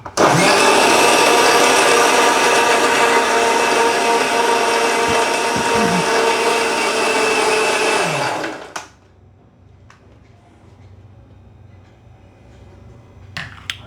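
A mixer grinder blending milk whirs loudly and steadily for about eight seconds, then winds down and stops, leaving a quiet room with a few faint clicks.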